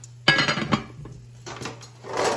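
A pot lid is set down over a simmering pot of Jamaican escovitch fried red snapper, producing a sharp metallic clank followed by a few lighter rattles and scrapes of cookware, close up and without speech.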